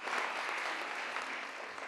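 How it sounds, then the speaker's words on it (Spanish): Applause from a crowd of about 300 people after a man's speech, a dense, steady wash of clapping held at an even level throughout, with no voices standing out. "Hubo aplausos después de que el hombre habló ante esta multitud de 300 personas"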